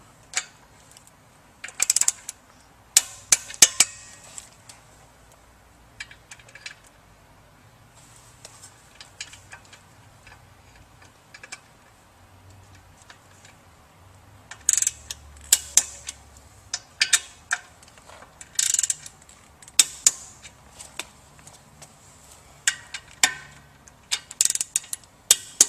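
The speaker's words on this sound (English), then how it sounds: "we'll go ahead and torque down the motor bolts." A wrench tightening the motor bolts on a Pentax water pump gives sharp, intermittent ratcheting clicks in quick clusters separated by quiet gaps, close and alone.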